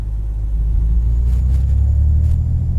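A Freightliner FLB truck engine in American Truck Simulator rumbles loud and steady at idle, a deep continuous low drone filling the whole stretch without talk.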